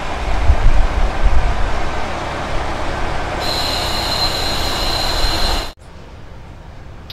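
A KiHa 40 diesel railcar pulls into a station in Hokkaido with a loud, steady rumble, then a sharp, high wheel squeal rings out for about two seconds before the noise cuts off abruptly.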